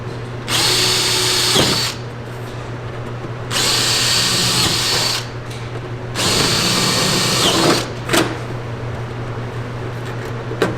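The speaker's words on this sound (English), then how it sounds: "And drill your holes." A power drill whirs loudly in three sustained bursts of a couple seconds each, drilling holes for a UTV stereo center console cover, separated by short pauses, close up with a steady hum beneath.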